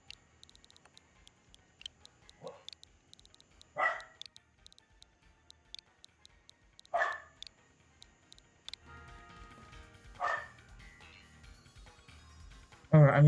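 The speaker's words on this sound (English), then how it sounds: "Ignore my dog, please." A pet dog barks a few times in short separate bursts indoors, with quiet ticking and clicking between them and a louder burst at the end.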